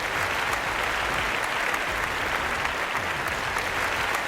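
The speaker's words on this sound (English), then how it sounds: "It's the worst fake applause ever" A looping fake applause sample, a dense, uniform wash of clapping with a constant level and no build or fade.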